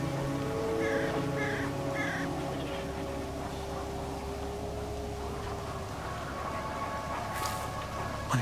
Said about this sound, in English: See that crow over there?